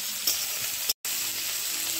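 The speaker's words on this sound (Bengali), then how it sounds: "পেঁয়াজগুলো ভালো করে লাল লাল করে ভেজে নেব।" Onions fry in a pan, making a close, continuous sizzle with a brief break partway through and no talking.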